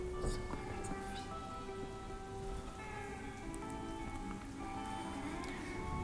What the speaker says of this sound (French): La pluie tombait si fort